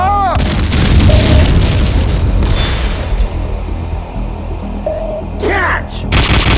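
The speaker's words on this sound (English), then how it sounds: "Grenade! Run!" A grenade explosion from the Max Payne 2 game sound effects: a loud, booming blast with debris and gunfire-like crackle, set among dense action noise with brief shouted voices.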